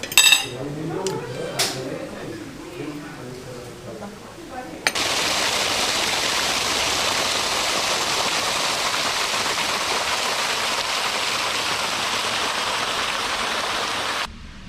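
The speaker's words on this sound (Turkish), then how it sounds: "Maşukiye'nin ortasından bir Aygır Deresi dediğimiz bir dere akıyor." After a few clinks, a broad rushing wash of flowing water from Aygır Stream through Maşukiye village in Kartepe, Kocaeli, fills the scene, steady and fairly loud, then cuts off near the end.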